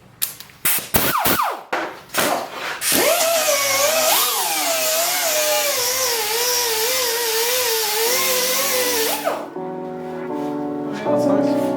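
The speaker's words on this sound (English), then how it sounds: "so I'm going to get my angle grinder out and let's get some urethane off" An angle grinder fitted with a bristle disc strips urethane from the quarter panel and hatch body of a 1995 Eclipse. After a few sharp knocks it spins up to a loud, sustained whine whose pitch wavers with load for several seconds, then winds down.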